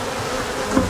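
Honey bees gathered in a swarm trap give a dense, steady close buzzing hum that continues unbroken through a short moment.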